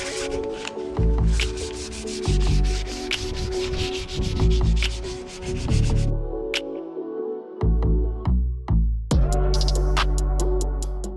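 Wood filler on trim in a garage is sanded by hand, continuous close rubbing and scraping strokes with brief pauses and light knocks, no voices.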